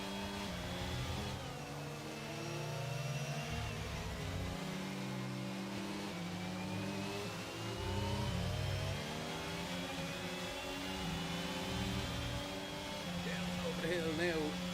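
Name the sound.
F1 car engine at Portimao in racing video game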